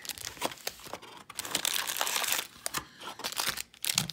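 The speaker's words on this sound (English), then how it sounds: "let's just get all the packs out of here and start ripping them open" Hockey trading card packs, Upper Deck 2019-20 Series 1 hobby box, being torn open by hand: steady crinkling and ripping of foil wrappers in close, continuous bursts with short pauses.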